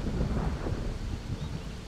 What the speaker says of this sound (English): And it's not always the same sounding thunder either.